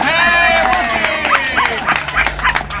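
Dog, the mascot of a newly opened city dog park at a ribbon-cutting ceremony, gives a few soft yips and whimpers amid a crowd's hubbub and a nearby voice.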